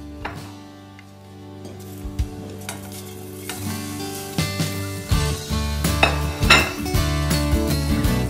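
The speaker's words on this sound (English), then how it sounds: "So we'll just add all those into our hot pan and stir them up." Butter, orange juice, sugar and rhubarb sizzle in a hot pan as a utensil stirs and clinks against it, growing busier toward the end, with music playing underneath.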